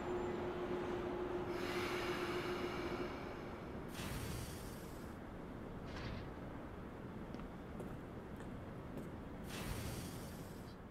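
Subway train interior in the video game No More Heroes, a continuous low rumble of a moving carriage with occasional hissing bursts and a faint whine early on, steady and enveloping.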